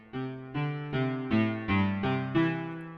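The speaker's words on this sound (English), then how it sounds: "I'm going to go to pianos and select Realistic 2 as it has a trap sound." Realistic 2 piano preset in Citrus with a dark trap character plays six sustained chords, one roughly every half second, each ringing with full low harmonics and no other sound.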